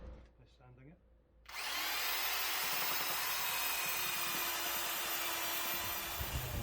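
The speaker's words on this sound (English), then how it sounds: "smoothing out the curve on the edge, making it a nice flowing curve hopefully. Sanding it." Loud, steady whir of a power sander smoothing a curved wooden edge on a synth and effects rack, starting abruptly after a quiet moment and running continuously up close.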